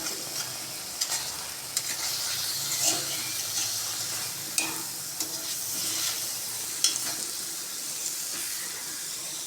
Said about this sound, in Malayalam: ഇനി പെരിഞ്ചീരകം ചതച്ചത് ഇട്ട് ഒന്ന് ഇളക്കി കൊടുക്കണം. മീൻ പൊടിയാതെ ഇളക്കണം,